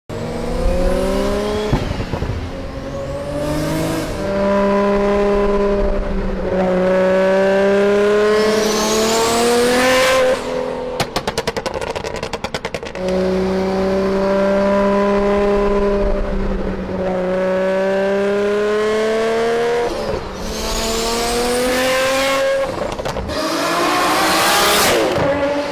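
A Nissan Skyline R34 GTR engine revs hard in loud, sweeping climbs and drops, each pull rising steadily before easing off, repeated over and over with a brief tire squeal and no talking.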